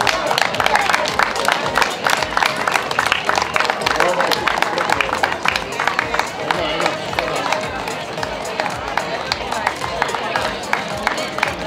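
A crowd at a para athletics meet applauds a winning girl in the jump event, dense rapid clapping that stays loud and steady throughout, with faint voices mixed in.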